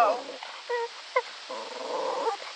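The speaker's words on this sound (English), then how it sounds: "Here they go, the neighbor's dog is out." A neighbor's dog yips and whimpers in short, high, broken bursts at moderate distance, mixed with steady background noise.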